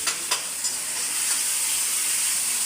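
Grated tomatoes cook in a hot pan with a steady, close sizzle and hiss, broken by a few soft stirring knocks near the start.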